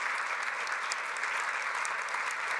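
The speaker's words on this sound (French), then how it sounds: "Applaudissements, s'il vous plaît." Audience applause at the close of a conference and round-table discussion, a dense, steady wash of clapping filling the room with no voices over it.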